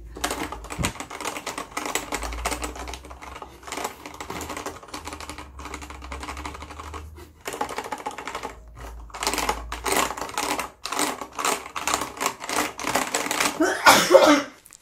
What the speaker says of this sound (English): I did some ASMR just to like listen to how clicky this keyboard is.